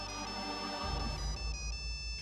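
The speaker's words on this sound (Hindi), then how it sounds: "किसका फोन है?" A mobile phone ringtone chimes in a Hindi film scene, a clear melodic electronic tone playing continuously and fairly loud over a deep, rumbling music bed.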